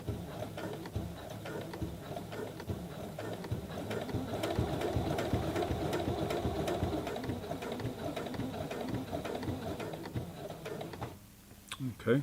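Brother CE1100PRW sewing machine stitching through a jeans hem, a continuous close mechanical rattle with rapid ticking needle strokes that slows and stops near the end.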